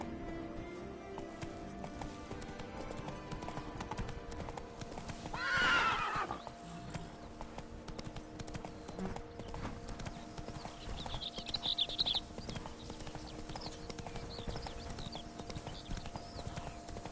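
A horse in the video game The Witcher 3 trots and gallops with continuous clip-clopping hooves, breaking into a loud whinny partway through, all set against a busy ambient game soundtrack.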